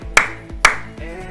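Two sharp, loud claps about half a second apart, then a softer third, each ringing briefly against a low musical backing.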